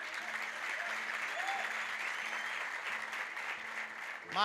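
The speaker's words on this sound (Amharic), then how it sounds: "ስለዚህ እስቲ ለራሳችሁ አንድ ጊዜ ጭብጨባ" Applause from an audience at a leadership training session, a steady dense wash of hand claps filling the whole stretch, with faint voices underneath and a brief louder voice at the very end.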